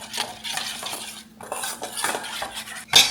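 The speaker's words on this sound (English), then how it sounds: "gonna stir this up" A spoon stirs a flaxseed egg replacement in a bowl, scraping and clinking close up in quick repeated strokes, with a brighter clink at the end and no talking.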